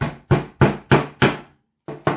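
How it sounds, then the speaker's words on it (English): A hammer strikes a nail through a belt strap in six sharp, evenly spaced blows, then a short pause before two more; each hit is close, dry and punchy. "go ahead and place your nail over one of your marks, give it a good hammer"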